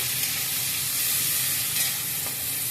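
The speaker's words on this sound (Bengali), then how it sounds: "পেঁয়াজটা একটু লাল করে ভালো করে ভেজে নেব আগে।" Sliced onion frying in oil with black cumin, a loud, dense, even hiss of sizzling oil close by, steady throughout with faint stirring knocks.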